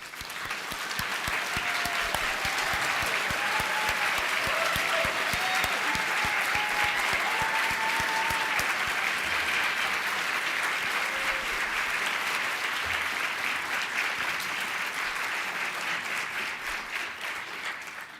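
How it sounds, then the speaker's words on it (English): A large audience at a book critics awards ceremony applauds steadily for a long stretch, dense sustained clapping that fades slightly toward the end, with faint voices beneath. "please stand or wave so we may celebrate you with a round of applause"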